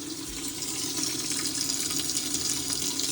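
Water gushes steadily into a Whirlpool/Maytag washing machine that is not washing and has a no-water fault, a continuous close hiss of filling water with no talk over it.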